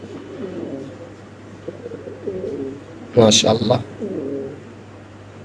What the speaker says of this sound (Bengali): কবুতরের ডাক অলরেডি শুরু হয়ে গেছে